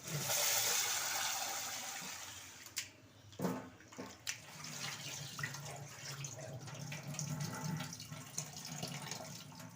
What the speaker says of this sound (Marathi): स्वच्छ पाण्याने असं धुवून घ्यायचं आहे आणि पाणी काढून टाकायचं आहे